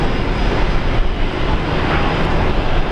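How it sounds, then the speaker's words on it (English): A Qantas airliner takes off at Brisbane Airport, a loud, steady jet roar that holds at close range throughout without pause, with no voices. "Good takeoff"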